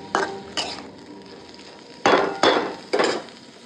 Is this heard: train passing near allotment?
no